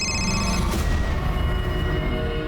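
A telephone rings loudly and steadily in a tonal, bell-like pattern, with a brief sharp burst near the start and no talking over it.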